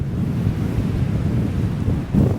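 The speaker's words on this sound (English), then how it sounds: "Sea swirling through it." Sea surges and churns steadily through a rock arch off the Shetland coast, a low rumbling wash with wind buffeting the microphone and a swell building at the end.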